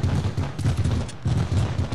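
Rapid crackling pops of fireworks in a battle-royale shooter game, two dense bursts of sharp overlapping bangs with a short gap between them, loud and close.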